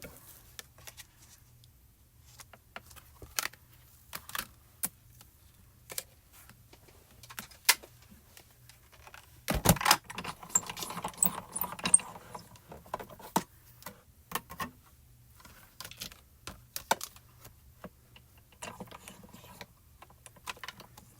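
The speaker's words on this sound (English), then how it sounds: "We're going to run this through with one of the embossing folders." Cardstock in an embossing folder is cranked through a die-cut embossing machine, giving scattered mechanical clicks and ticks with a denser grinding, rolling stretch in the middle, all fairly quiet and close.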